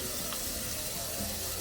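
Tap water runs steadily into a kitchen sink insert, a continuous, even rush with no talk over it.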